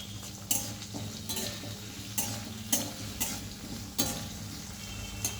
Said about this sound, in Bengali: এ দেখো আমার আমড়াগুলো ভাজা হচ্ছে।